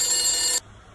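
A telephone ringing in the video game The Beast Inside sounds as a bright, loud electronic trill that cuts off abruptly about halfway through, leaving near silence.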